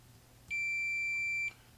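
A multimeter gives a single steady continuity-test beep while the coils of a broken Dremel rotary tool are checked, a clear, close electronic tone lasting about a second over quiet room hum.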